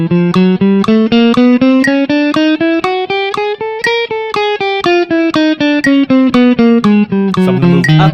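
Electric guitar with a distorted, effects-laden tone plays steady eighth notes in a shifting exercise, the pitch climbing and then falling back, locked to a metronome click at 120 BPM; loud, continuous and alone.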